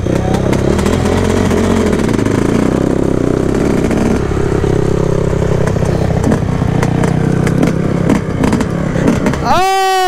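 A Yamaha YZ250 two-stroke dirt bike screams while held wide open and shifted up during a drag race, a loud sustained engine whine with rising pitch that cuts off near the end, people talking nearby.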